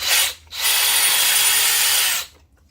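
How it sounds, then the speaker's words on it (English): A power screwdriver whirs loudly as it backs out Phillips screws from a mini mill, one short burst followed after a brief pause by a longer steady run of about two seconds, with no talk over it. "Remove these 3 Phillips screws."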